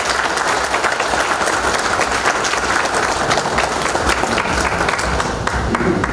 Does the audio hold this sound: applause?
yes